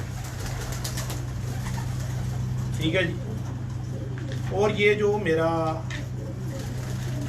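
Pigeons coo in a loft in Pakistan, with soft bursts of cooing and rustling under a man's speech and a constant low hum.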